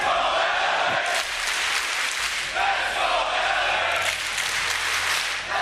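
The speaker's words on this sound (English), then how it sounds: "The crowd roaring for the guys in red now." Esports arena crowd at the Six Berlin Major quarterfinals roaring for the team in red, a loud, sustained wash of cheering and clapping that swells in waves and fills the whole stretch.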